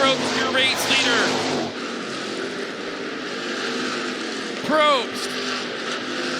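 Hobby stock race cars roar around the Clay County Speedway dirt track, engines loud and droning, with one car sweeping past close by late on, while an announcer calls the race over the noise.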